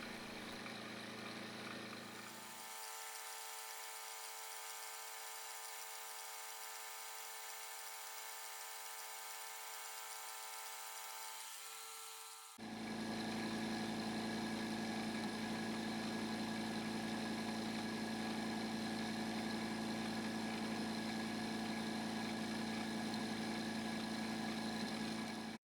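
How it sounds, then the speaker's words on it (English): Lathe running under power feed, moving material beneath a milling machine in a shed workshop: steady mechanical hum and whine, then an abrupt shift midway to a louder, broader machine drone that continues to the end. "The reason you're seeing the lathe turning in the background is because I'm using the power feed on the lathe"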